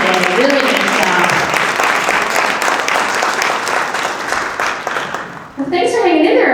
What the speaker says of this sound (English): Let's give a round of applause to all the presenters throughout the day